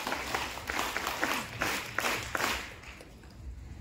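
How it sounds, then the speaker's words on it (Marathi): An audience at a school felicitation ceremony applauds, with dense, steady clapping from many hands, loud and close, with a few sharper individual claps standing out before it fades slightly at the end. "जोरदार टाळ्या।"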